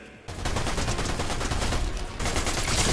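SMG fire in Fortnite, a dense unbroken stream of rapid shots that runs for the whole stretch, loud and close, with one brief pause partway through.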